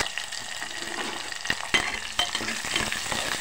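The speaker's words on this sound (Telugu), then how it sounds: "ఆనియన్స్ కాసేపు వేగిస్తున్నాం" Chopped onions with green chillies, curry leaves and tempering spices frying in oil, a steady close sizzle broken by a few sharp stirring scrapes and knocks, with no talk.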